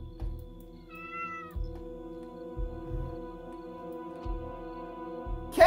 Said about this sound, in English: Whoa, there's a cat somewhere over here.